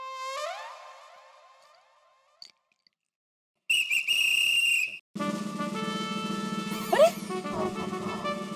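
A shrill referee-style whistle blown in a residential housing society scene of a TV comedy gives one loud, sustained blast of about a second, set between stretches of tonal music and effects.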